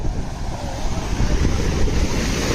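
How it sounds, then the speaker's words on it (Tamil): A village stream rushes forcefully, giving a loud, continuous roar of churning water close to the microphone, with wind buffeting mixed in and no voices. "எப்பா எவ்வளோ ஃபோர்ஸாக போகுது பாருங்க"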